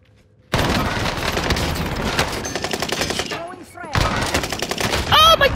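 Gunfire in the shooter video game Call of Duty: Modern Warfare, loud rapid automatic bursts with a sharp pause and a blast, then more firing over game sound effects.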